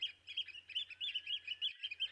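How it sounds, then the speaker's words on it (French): Small bird chirping in repeated quick tweets and trills, fairly close and clear over a faint low hum, with no talking. "elles ont vu arriver un autre oiseau"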